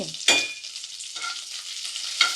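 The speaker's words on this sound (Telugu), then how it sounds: "ఈ గుంటగలగ రాకుని చూపించిన విధంగా ఫ్రై చేసుకోవాలి" Bhringraj leaves with salt fry and get stirred in oil in a pan, giving a steady close sizzle broken by a few sharp scraping stirs, with no voices.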